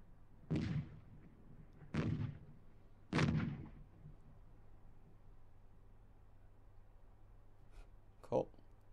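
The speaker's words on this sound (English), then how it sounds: "just cannon shots" Three heavy booming cannon shots ring out, evenly spaced a second or so apart, each with a rolling tail, followed later by a sharper distant report.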